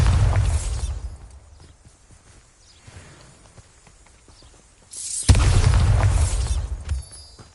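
A Bombarda spell goes off in Hogwarts Legacy on PS5 as a heavy booming blast that fades into quieter rumbling. A second loud explosion follows a few seconds later and then dies away.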